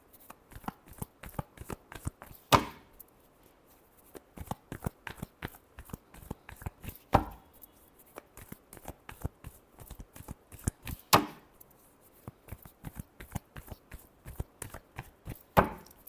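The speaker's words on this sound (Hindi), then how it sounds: "Last shuffle." Tarot cards are shuffled by hand in quick riffling bursts, a rapid stream of crisp close flicks with louder snaps every few seconds, quiet overall and with no talk.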